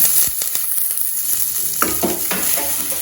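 Chopped onions sizzle and fry in hot oil with dried chillies while preparing seeraga samba lemon rice, a steady close crackling hiss broken by a few scraping stirs and clatters of a spoon in the pan, with no one talking.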